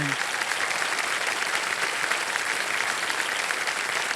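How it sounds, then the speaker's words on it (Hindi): Studio audience applause on the KBC game show, season 17: dense, steady clapping fills the whole stretch at an even, full level with no talk over it. "क्या बात है भाई साहब, तालियां बज जाए आपके लिए।"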